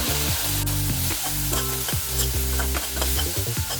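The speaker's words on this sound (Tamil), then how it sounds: "வெங்காயம் கொஞ்சம் பொன்னிறமாக ஆகிற வரைக்கும் வதக்கிக்கலாம்" Steady frying sizzle of onions sautéing in a pan for salna, with repeated stirring scrapes and a constant tonal hum underneath.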